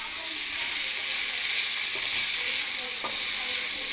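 Leafy greens seasoned with salt and turmeric sizzle steadily in a pan, a continuous close hiss with faint scrapes of stirring.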